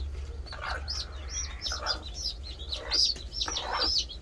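Small incubator-hatched chicks placed under a hen peep in quick high chirps, repeated in short clusters over a low steady hum.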